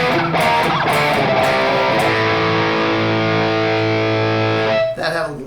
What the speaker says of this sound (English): That had a little tape echo on.